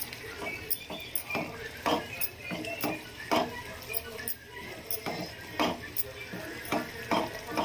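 A spoon stirring mutton liver curry in a metal pot after garam masala and coriander are added, making rhythmic clanks and scrapes against the pot, close and fairly loud, with a soft background hum.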